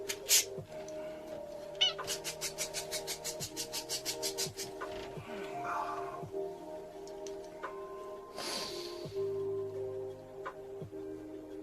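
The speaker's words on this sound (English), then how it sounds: "You deadly cat." A cat meows in a video game, heard as a run of rapid, evenly spaced ticking pulses and then a louder, drawn-out meow near the end over a steady background drone.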